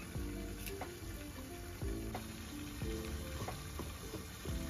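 Chicken frying on a high flame in a covered pan makes a steady, dense sizzle with occasional sharper crackles and spits, continuous and close throughout.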